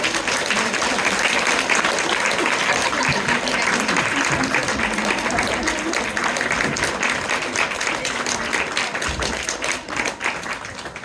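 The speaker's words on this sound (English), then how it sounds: "Let's give them a clap before we start." An audience at a school's end-of-year Year 5/6 performance claps steadily and loudly for the full stretch, a dense unbroken patter of many hands that thins slightly near the end.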